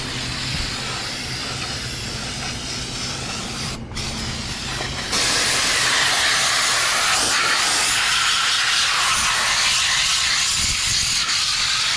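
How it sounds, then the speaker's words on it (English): Aerosol brake cleaner sprays onto an aluminum turbo kit part for a Miata, a steady close hiss that grows louder and broader about halfway through and keeps going without a break. "So let's brake clean this thing away."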